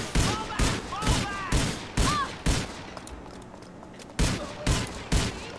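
Police officers open fire in GTA IV, with sharp gunshots arriving in spaced bursts, one roughly every half second, loud and near, then a brief lull before the shooting resumes.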